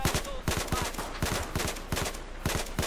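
Rapid automatic rifle bursts in Battlefield 4 on the Guilin Peaks Conquest map, rounds striking a rock, with loud, dense repeated shots running through the whole stretch and faint speech-like sounds beneath.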